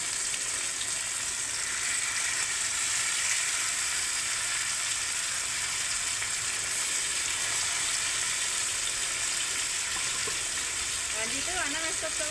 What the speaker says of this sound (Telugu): ఇంకా అన్ని చేపలు ఇలానే వేయించుకుంటే మనకి చేపల ఫ్రై అయిపోతుంది.